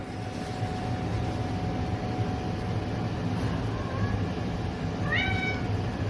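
A short, faint cat meow near the end, under a constant loud engine-like rumble and hum.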